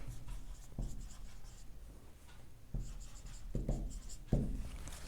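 A pen scratches out equations by hand on paper in a quiet room, short bursts of strokes and taps separated by brief pauses, close and faint.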